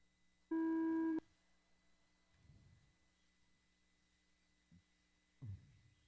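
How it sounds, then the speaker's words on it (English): A single loud electronic race start tone sounds for about half a second at an RC raceway, followed by quiet background hum and a few faint low thumps. "on the sound of the tone, drivers, on the sound of the tone"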